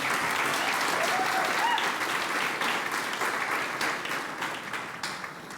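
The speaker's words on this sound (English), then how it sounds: "A round of applause for them too." Audience applause at the Kincardine Community Achievement Awards for a team of volunteers, a dense wash of many hands clapping that holds steady, then gradually tapers off near the end.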